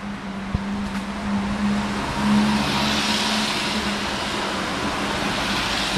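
A small Japanese minivan on a street in Narita, Japan. A continuous vehicle rumble holds steady and swells slightly midway as the van passes, with a faint hum throughout and a sharp click early on.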